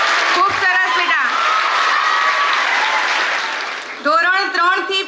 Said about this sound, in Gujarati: ફરીથી એકવાર જોરદાર તાળીઓથી આજના સોલ્જરોને આપણે વધાવી લઈએ